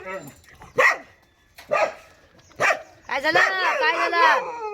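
A dog at a village home barks sharply three times close by, then lets out a longer run of whining, yelping cries, with no talk over it.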